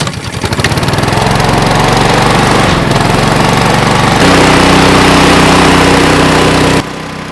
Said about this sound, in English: I think we're going to notice a little difference in the decibels because it is a hovercraft and hovercrafts are somewhat noisy